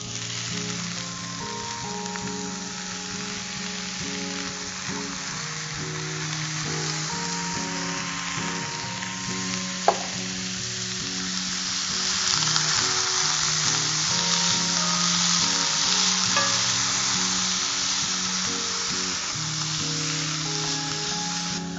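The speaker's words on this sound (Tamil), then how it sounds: "இது கூட நம்ம நல்லா வாஷ் பண்ணி கட் பண்ணி வச்சிருக்க இந்த பாலக் கீரை போட்டுக்கலாம்" Washed, chopped spinach hits a frying pan with cumin, bursting into a steady loud sizzle that swells a little after a sharp knock midway, with no talk.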